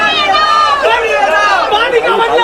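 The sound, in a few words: crowd clamor outside police station, prank call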